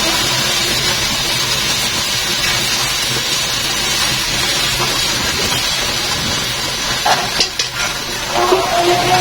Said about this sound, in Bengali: চাউলগুলো আমি নেড়ে চেড়ে ভেজে নেব।